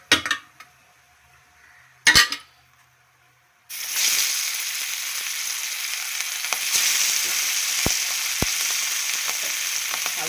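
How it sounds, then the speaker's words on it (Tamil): Masala-coated fish drops into hot oil after a couple of sharp pan clinks, then fries with a loud, continuous sizzle punctuated by occasional crackles and pops. "இப்போ இருக்கிற மீனையும் வறுத்துக்கலாம்"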